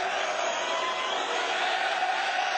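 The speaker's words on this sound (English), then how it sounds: "crowd vociferously chanting, setting the stage for what should be an electric featherweight contest" Boxing arena crowd before a featherweight bout, a dense continuous roar of many voices, loud and steady throughout with no individual words standing out.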